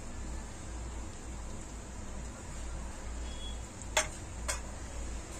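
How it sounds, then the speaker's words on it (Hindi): Stirring potato filling with freshly chopped coriander in a pan over low heat; a steady soft sizzle and scraping runs throughout, with two sharp clinks of a utensil near the end. "आलू डालने के बाद इसको अच्छी तरह से मिक्स कर देंगे।"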